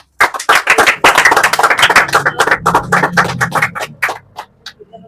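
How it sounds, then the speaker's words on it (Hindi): Students in a Class 10 maths lesson clap together in a burst of close, sharp, uneven claps that thins out after about four seconds, with no talking. "मारो ना ताली जी"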